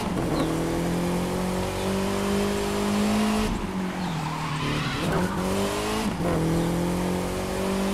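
A Volkswagen Golf GTI racing in the game The Crew 2: a loud, steady engine drone rising and falling through gear changes, with tire squeal and skidding mixed in, continuous and close, with no talk.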